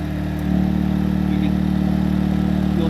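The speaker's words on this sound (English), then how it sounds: "you'll hear the engine speed change a little bit when you plug in your equipment" A portable generator engine runs steadily during a power outage, a loud close drone with a constant hum that steps up slightly in level after about half a second and then holds even.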